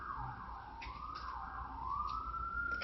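A police siren wails, its pitch sweeping up and down in a rising and falling cycle, heard alone at moderate distance.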